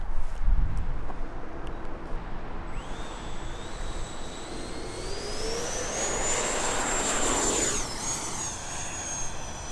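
RC airplane on its maiden flight, a steady whooshing motor roar with a rising, sweeping high whine as it climbs away and passes, continuous and loud throughout.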